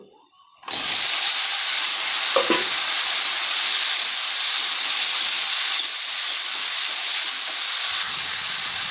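Ridge gourd and potato hitting hot oil in a pan, a sudden loud burst of sizzling that settles into a strong, steady, close hiss with a few faint stirring clicks, no talk.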